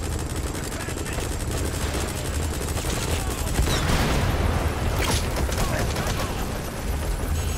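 Helicopter in the video game Metal Gear Solid V: The Phantom Pain, a steady rotor drone under heavy gunfire and machine-gun bursts, loud and continuous throughout.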